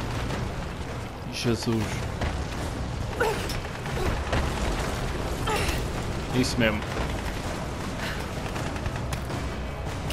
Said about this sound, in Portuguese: é só tiros, explosões